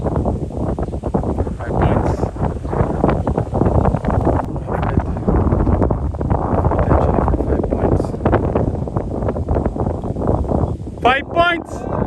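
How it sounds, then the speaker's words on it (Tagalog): Strong wind buffeting the microphone outdoors on a golf course, a steady low roar and rumble throughout, with a brief bird chirp near the end. "Okay, malakas pa rin talaga yung hangin."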